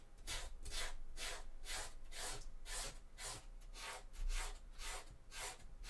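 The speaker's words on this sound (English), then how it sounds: "this is the life of a cosplayer, sanding things." A cosplay chainsword prop is sanded by hand to round off its square edges. Steady back-and-forth rasping strokes repeat in an even rhythm, close and fairly quiet, with no talking.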